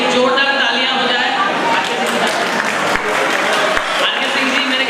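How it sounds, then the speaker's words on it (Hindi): An audience claps steadily and loudly throughout at a stage event, a dense, continuous wash of applause with crowd noise and no pause. "तो आर के सिंह जी के लिए जोरदार तालियां हो जाए।"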